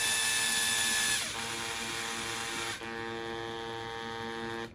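A steady, loud whine of a power drill running continuously into 3D printed plastic, with slight pitch dips as it bites into the material, then trailing off at the end.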